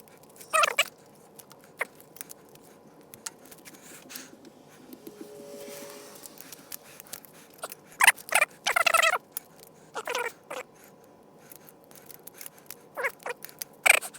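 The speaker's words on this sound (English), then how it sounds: "Let me get this tape off." Packing tape being peeled off a mail package in scattered bursts, short ripping and crackling strips, some louder and close, separated by quiet pauses and light handling noise.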